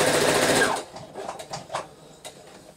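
A sewing machine runs a quarter-inch seam in a short fast burst of whirring needle action, then slows into a few separate mechanical clicks and thumps nearby.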